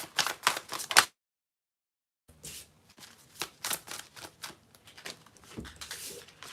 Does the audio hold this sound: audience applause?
no